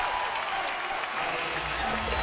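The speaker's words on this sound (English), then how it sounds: "Listen up. This is a pro Lumberjack crowd here in Katy." A dense crowd at a college basketball championship game in Katy applauds and cheers continuously, a steady wash of clapping and shouting filling the arena with no pauses.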